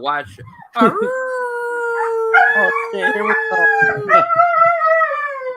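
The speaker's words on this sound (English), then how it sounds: "That's a dog." Dog howling in long, sustained, wavering tones that rise and fall across several drawn-out notes, loud and close, while people talk and exclaim over it.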